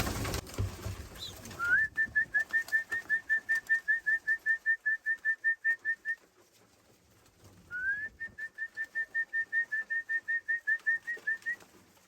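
Racing pigeons arriving at their loft during a training flight: two runs of rapid, evenly spaced high chirping notes, about a dozen each, separated by a short pause and heard fairly close and clear with no talk.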